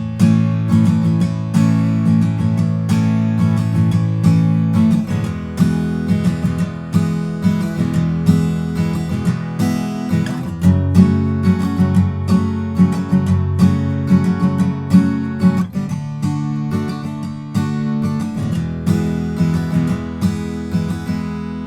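Acoustic guitar strums a variation of a song's chord progression, steady rhythmic strumming with ringing chords, played close and alone for about twenty seconds.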